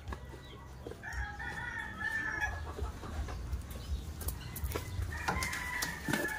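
Male turkey over three years old gobbling and clucking in short bursts on a backyard farm, fairly close, over a rough outdoor background with wind noise.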